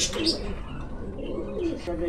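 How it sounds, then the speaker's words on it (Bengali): Blue running pigeons coo in low, throaty phrases close by, with a couple of short chirpy notes over a noisy background, and a voice is faintly present. "এগুলো নীলা কবুতর, রানিং কবুতর"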